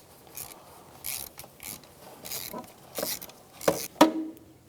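A ratchet working a 10mm valve cover bolt loose in the back right corner of an Infiniti G35 engine, giving quiet rasping, clicking strokes in short bursts, ending with a couple of sharper clicks.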